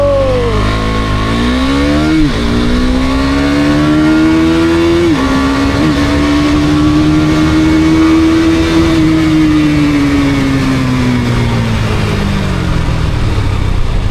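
Motorcycle in a solo drag race on a Bangalore road, engine loud and close, rising in pitch through repeated gear shifts as it accelerates hard, then holding a high steady drone before easing off near the end.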